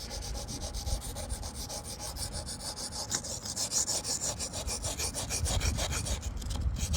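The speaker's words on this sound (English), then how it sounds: "keep this stone wet throughout the sharpening process" Knife being sharpened on a wet Wästikivi sharpening stone, with steady rhythmic scraping strokes of blade on stone, close and moderately quiet, no talk.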